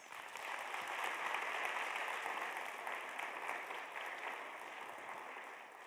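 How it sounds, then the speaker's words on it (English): Sustained applause from an audience at a university convocation ceremony, a dense, steady wash of many hands clapping heard from across a large room, holding level for several seconds without voices on top. "Let's give them a round of applause."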